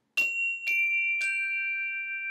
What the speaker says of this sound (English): we take out the chimes and we simply strike them